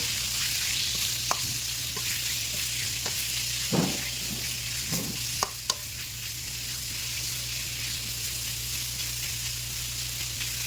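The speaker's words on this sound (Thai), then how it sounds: "แล้วนำหมูสามชั้นลงมาผัดต่อ ให้หมูสามชั้นของเรา เหลืองหอม" Pork belly stir-fried with minced garlic in a pan gives a continuous close sizzle, broken by a few sharp scrapes and clicks of a spatula against the pan.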